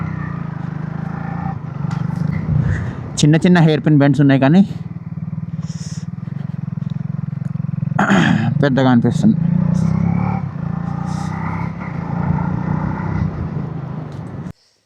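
A motorcycle rides a ghat road of small hairpin bends in the Gudisa–Paderu hills of Andhra Pradesh, with a steady engine drone and wind rush throughout while someone talks over it.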